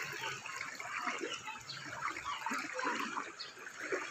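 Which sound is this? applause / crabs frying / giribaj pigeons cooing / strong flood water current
strong flood water current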